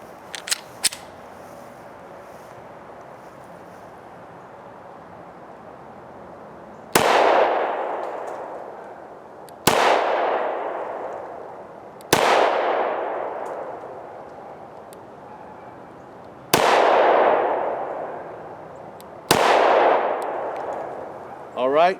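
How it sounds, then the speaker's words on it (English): Five loud gunshots from a Smith & Wesson M&P 10mm pistol crack out a few seconds apart, each followed by a long echoing decay at an outdoor range. "it cycled all 5 rounds and locked back on the last round"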